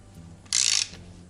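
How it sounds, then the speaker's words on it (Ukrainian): A wrench, likely a ratcheting one, gives a single sharp metallic crack as a tight nut stuck for five years breaks loose in a workshop, a short loud burst against quiet background. "спробуємо відкрутити ось таку гайку, яка не відкручувалася вже років 5"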